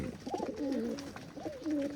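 A pigeon coos close by in two soft, rolling phrases, with quiet background hiss.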